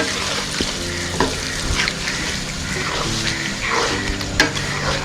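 Chicken biryani masala frying in a pan, a steady broadband sizzle with occasional scrapes and clinks from stirring, close and moderately loud with no talking.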